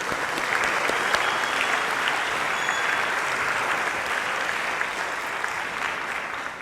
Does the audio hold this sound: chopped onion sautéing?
no